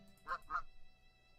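A goose gives two loud, nasal honks in quick succession at close range, followed by quiet background.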